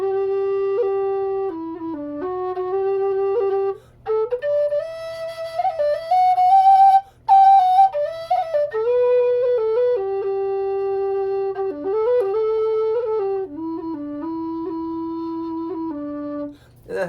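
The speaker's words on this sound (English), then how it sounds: "I'll try it on the Goldfinch right here." A Goldfinch whistle fitted with a boxed windway air dam plays a steady tune, clear sustained notes stepping up and down with brief breaths between phrases, loud and close, no voices.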